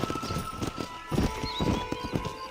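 Galloping horse hooves clip-clop in a steady rapid rhythm while riding in the Western video game Red Dead Redemption, with a brief whinny above the beat, loud and close throughout.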